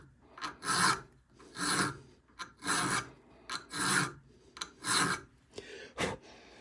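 Hand file rasping along a tapering blade in repeated strokes, about six to seven steady passes, close and moderately loud with short gaps between strokes and no talk.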